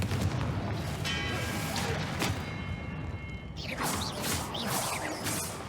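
Confringo blast spell and other combat spells exploding in Hogwarts Legacy on PC, several sharp cracks and booms in quick succession amid busy combat effects, fairly quiet overall.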